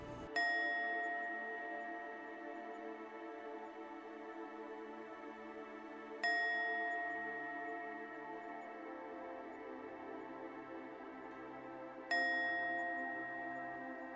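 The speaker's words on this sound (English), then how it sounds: "You will hear a series of 3 chimes starting now." Three clear bell chimes ring out, evenly spaced about six seconds apart, each bright strike sustaining and slowly fading in a quiet space.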